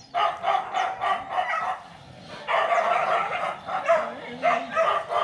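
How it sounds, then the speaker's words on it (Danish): Several neighbour's dogs bark and yip repeatedly in bursts at moderate distance, a busy, overlapping chorus with short pauses between volleys. "Der er sgu gang i naboens hunde."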